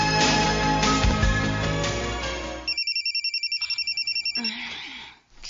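After music fades, a telephone rings with an early-morning call: a rapid, pulsing electronic ring repeats steadily for a couple of seconds, close and clear, then stops.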